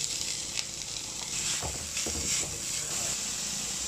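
Two medium onions and curry leaves sizzle steadily in a hot pan, a close, continuous hiss broken by a few soft stirring scrapes.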